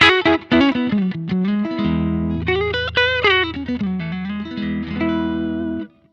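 An electric guitar run through a Zoom MS-50G multistomp set to its Fender Twin amp model with delay and reverb, playing sustained melodic phrases with bass notes underneath, clear and close, ending abruptly, without any talking.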